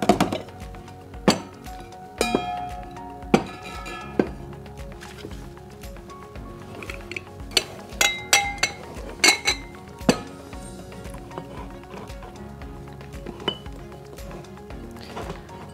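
Glassware chinks and clinks as drink glasses are set out beside drink mixes in a shop display, sharp scattered taps recurring through the stretch, some in quick clusters, with light handling noise between.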